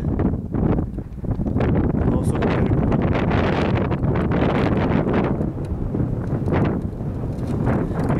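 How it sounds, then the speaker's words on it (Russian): Strong gusting wind roars against the microphone while skiing across a frozen lake, with a dense, continuous blustery rush and buffeting that swells and surges throughout. "Только ветер дует сильно."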